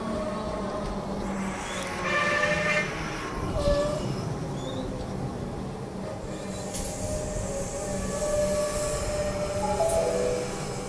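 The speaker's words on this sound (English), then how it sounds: "train departing platform 1 with 524M at the front" Melbourne suburban electric train leaving Armadale Station platform with a continuous rumble of wheels and motors, plus faint squeals and a few distant bird calls.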